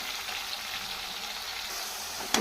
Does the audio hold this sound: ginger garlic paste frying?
yes